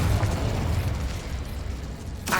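A Confringo blasting spell goes off in Hogwarts Legacy with a loud, close, booming explosion that rumbles low and fades over about two seconds before another sharp burst at the end.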